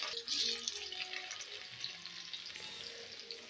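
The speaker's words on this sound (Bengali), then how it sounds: "মাছগুলো খুব বেশি ভাজলে হবে না, এইভাবে হালকা হালকাভাবে ভাজতে হবে" Fresh pond-caught katla fish pieces frying gently in mustard oil, a soft, steady sizzle and spatter, a little louder at the start, heard close with no talking.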